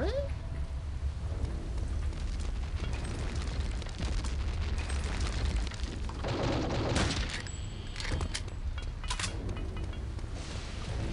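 Heavy booms and bursts in Return to Castle Wolfenstein, where grenades explode again and again over a dense rumbling battle with scattered gunfire, loud and continuous, with a voice heard now and then underneath.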